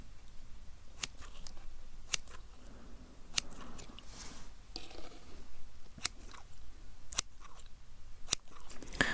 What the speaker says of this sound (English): let me just very quickly get my scissors. I'm going to cut your eyebrows.